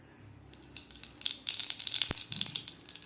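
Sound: mustard seeds added to hot oil

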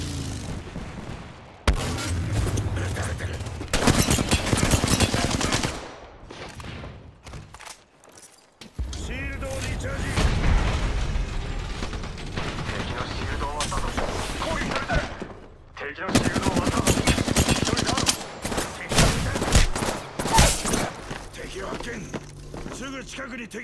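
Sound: gunfire in Apex Legends video game

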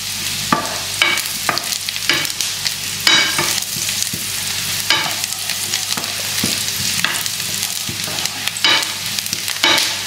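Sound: stirring browning mixture with butter in a pan

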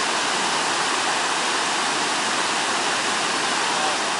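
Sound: Iguazu waterfall, the biggest waterfall

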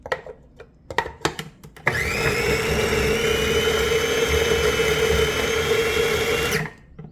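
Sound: blender grinding perilla leaf pesto

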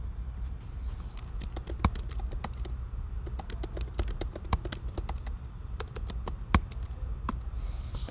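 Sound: typing on a computer keyboard in Photoshop

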